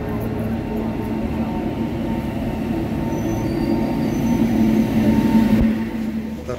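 The Dhanbad Kolhapur Express (11046) rolls through a station at Kurduwadi, a loud steady rumble of wheels on rails with squealing metal tones, building slightly toward the end.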